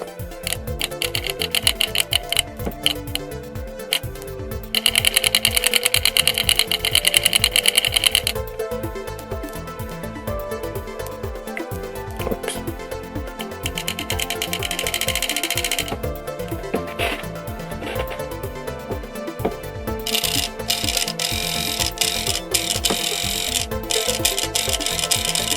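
A broken joystick on a Chinese PS3 controller is worked back and forth, giving continuous close plastic rattling and scraping with a few harsher grinding bursts, no talking.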